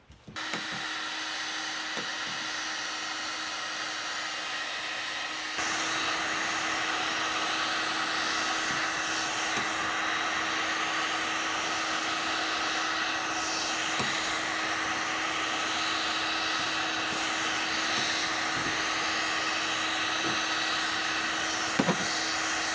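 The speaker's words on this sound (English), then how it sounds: "Now another thing I'm going to use that the heat gun for is this stainless steel sink." Heat gun blowing on a stainless steel sink, a continuous loud airy whir with a steady tone that steps up in strength early on, occasional faint clicks and taps.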